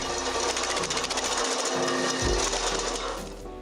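A 5.5 kW double-shaft wood chipper grinds long trees up to 10 cm thick into small firewood pieces, a loud, continuous, dense mechanical rattle and crunch with shifting low-end load throughout.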